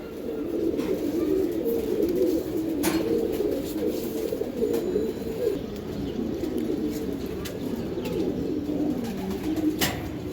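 A loft of Giribaz high-flyer and racer pigeons coos continuously, many birds overlapping in a dense, steady murmur with occasional sharper knocks and wing sounds, close and fairly loud.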